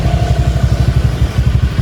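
A motorcycle fitted with a WRC aftermarket exhaust rumbles close by in a steady, throbbing low pulse, with no voices over it.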